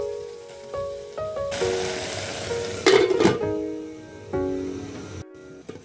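Tomatoes frying and being stirred in a pan for a Kenyan garlicky milk-soaked liver dish, a steady close sizzle with a louder burst of stirring scrapes midway and a brief drop near the end.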